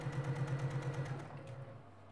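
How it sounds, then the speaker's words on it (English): A sewing machine stitching folded cotton fabric strips, a quick, even run of motor hum and needle thumps up close that slows and trails off after a couple of seconds. "I'm going to sew all of these right through here, 1/4 inch away from the end"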